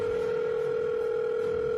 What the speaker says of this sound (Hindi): उसने अपने फैमिली डॉक्टर को तुरंत फोन किया